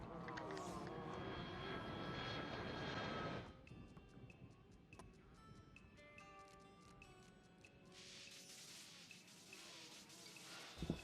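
An airplane drones through a cartoon scene, a steady engine hum that drops back to a quieter ticking texture before swelling again, with faint voices mixed in.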